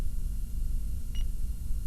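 Cobra HH 38 WX ST handheld CB radio giving a single short, high electronic beep as a button is held, sounding once over a low, steady background hum.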